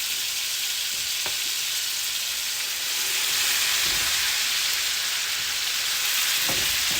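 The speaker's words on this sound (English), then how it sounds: "I'm going to place them in this olive oil and butter." Lamb loin chops with a dry herb rub of thyme, rosemary and oregano fry on a stovetop in olive oil and butter, giving a steady, close, loud sizzle that swells slightly partway through, with a few faint clinks.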